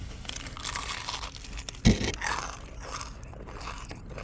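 A bite into crunchy, spicy Church's Texas fried chicken gives one sharp crunch of breading, followed by softer crackling and chewing, close and fairly loud, with no talking.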